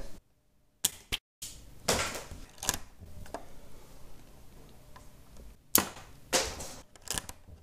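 Gunfire in a Lego video game: a handful of sharp, snappy shots in irregular bursts with brief quiet gaps between them, fairly close and loud.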